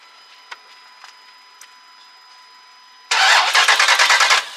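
A Dodge Durango Trackhawk engine is forced to crank through a homemade starter fuse; after quiet ticking, a loud rhythmic starter churn with even pulsing compression beats runs for over a second without firing.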